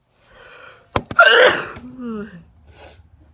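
A person's sneezing attack: a sharp sneeze burst with a gasping intake before it and wheezy, breathy sounds trailing after, close and loud.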